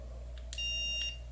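A dog training collar remote set to tone mode gives a single clear high electronic beep of about half a second, with brief faint clicks around it over a low steady hum.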